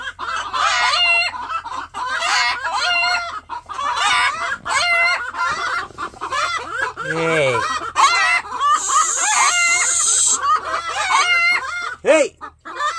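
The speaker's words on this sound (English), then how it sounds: "Chickens aren't loud." Several chickens cluck loudly and continuously close by, with a rooster's crow rising out of the flock midway and more crowing near the end, all without talk.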